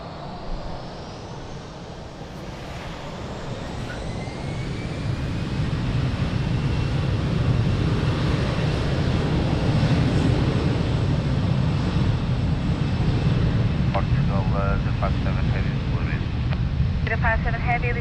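Airliner taking off from runway 02 at Lisbon Airport, a jet roar swelling steadily and holding loud and broad, with a few voices briefly audible near the end.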